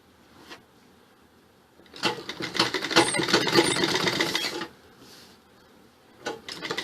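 A sewing machine stitches cloth with piping for a suit, running in a rapid, steady mechanical whir for a couple of seconds between quieter handling noises, close by.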